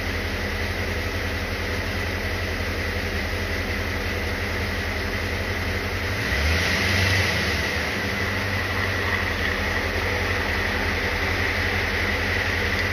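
An OBD1 Corvette engine idles with a constant, even drone. It holds steady throughout and shifts slightly partway through.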